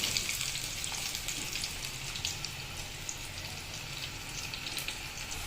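A fresh batch of food sizzles steadily in hot oil in a pan, with a soft, even crackle that continues without a break and no talking.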